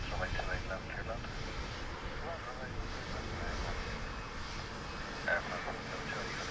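Air France airliner coming in to land at Dublin Airport, a steady broad engine roar with wind buffeting, holding fairly constant throughout with a brief swell near the end.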